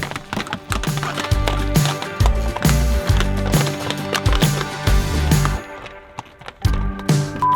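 Pack horses are led one at a time along a granite trail in the Bridger Wilderness, their shod hooves clopping loudly and close in an uneven, repeated rhythm of sharp strikes on rock, with a brief lull before the steps resume.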